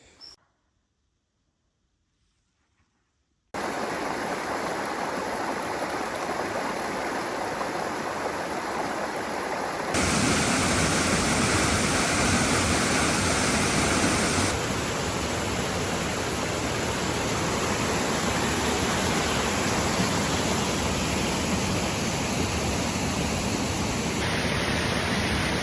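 Steady full roar of Wairoa Falls, a small waterfall in the Bay of Plenty, New Zealand, heard up close as broad rushing water with no voices, starting after a few seconds of near silence and growing louder partway through.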